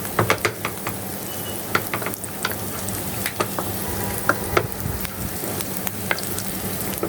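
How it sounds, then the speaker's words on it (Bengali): Onion and chopped garlic fry in a pan for a dried-fish chepa shutki mash, giving a loud, continuous close-up sizzle broken by frequent sharp clicks and scrapes of stirring. "পেঁয়াজটা ভাজা ভাজা হচ্ছে।"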